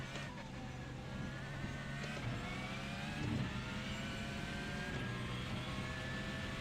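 A Porsche 919 race car in a racing video game, its engine droning steadily with rising and falling pitch as cars pass, a continuous moderate whine over a low rumble.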